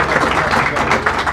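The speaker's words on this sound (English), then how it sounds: "Let's give them a round of applause" An audience at a school board meeting gives a brief, steady round of applause, heard as a dense wash of clapping with murmuring voices in the room.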